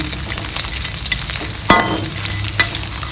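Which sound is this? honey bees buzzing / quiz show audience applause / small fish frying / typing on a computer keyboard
small fish frying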